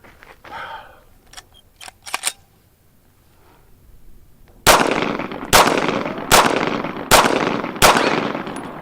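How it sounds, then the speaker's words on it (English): Five pistol shots fired at an outdoor range for an accuracy test, sharp loud cracks spaced about a second apart, preceded by quieter clicks and handling noises. "So 5 rounds, going to do 5 rounds basic accuracy test."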